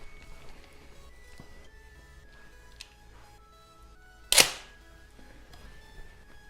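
A single sharp crack from a RARE ARMS SR762 gas blowback airsoft rifle, fired once outdoors on a range, standing out alone against a quiet background with a faint hum.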